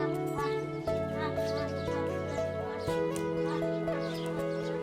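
Chickens cluck near village chicken coops, soft calls scattered over a steady droning background, with a voice faintly present nearby.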